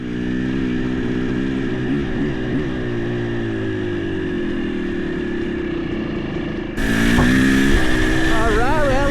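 A Kawasaki KDX 200 dirt bike engine drones steadily up close while being ridden, its pitch shifting with throttle changes, then turns louder and harsher near the end with rising revs.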